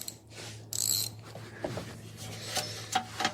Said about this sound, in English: You might need a ratchet spanner to get down next to the other heat shield against the brake lines.